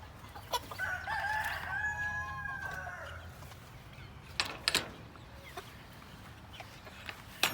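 Kosher King meat chickens from Freedom Hatchery on a homestead: a rooster-like crow rises early, followed by scattered clucks and short calls at moderate distance, with no voices.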